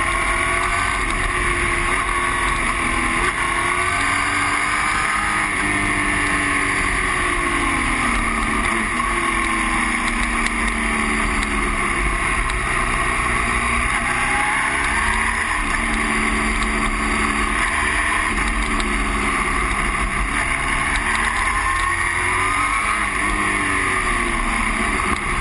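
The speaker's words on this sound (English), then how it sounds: "I did tend to keep the engine spooled up, mainly so I could listen to it" A Honda VFR1200 motorcycle engine runs continuously, a steady droning hum whose pitch rises and falls gently, with wind rushing over the microphone throughout.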